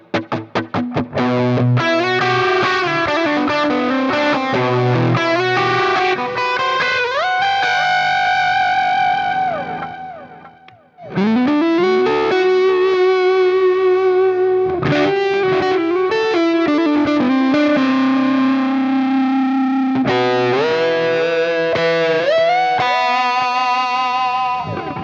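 Fender Player Series Jazzmaster electric guitar through high-gain distortion, loud riffs and sustained chords with bends, a brief pause midway, then heavy playing resumes, alone without talk.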